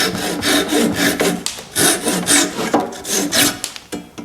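A hand saw cuts off wooden dowels on an oak and marine ply three-step stool, producing loud, close, rhythmic rasping strokes back and forth with brief pauses between strokes and no talking.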